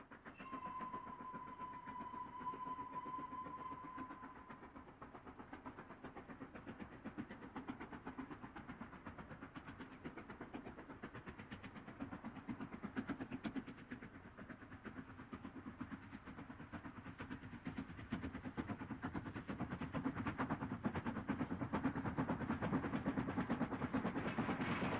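LNER N2 class 0-6-2 tank steam locomotive, sole survivor of its class, working on the Great Central heritage railway, with a steady mechanical rumble and a whistle-like tone early on, continuous and fairly close throughout.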